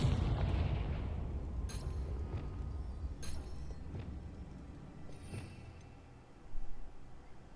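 A Confringo blasting spell in Hogwarts Legacy erupts into a deep booming explosion right at the start, its rumble slowly decaying over several seconds while a few sharp cracks and a later thump follow.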